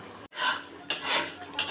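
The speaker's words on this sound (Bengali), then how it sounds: "মশলাটা ভালো করে একটু ভেজে নিতে হবে" A utensil scrapes and stirs ground cumin and fennel spices with peas, salt and sugar in a karai, in three loud, close bursts of clattering metal, with no talk.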